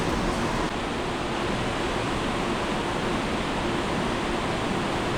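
Sewer water rushing steadily through the headworks of a sewage treatment plant, where sand is removed, a loud, constant broadband roar like a waterfall, unbroken and without voices throughout.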